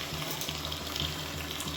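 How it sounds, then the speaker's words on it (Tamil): Thick coconut milk is poured into a simmering chicken and potato gravy, giving a faint, steady liquid gush with a light sizzle throughout. "மெஷரிங் கப்பில் நல்லா 1 கப் அளவுக்கு நல்லா கெட்டியான தேங்காய் பால்"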